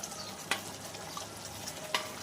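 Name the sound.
fried jackfruit-prawn balls stirred in pan with sauce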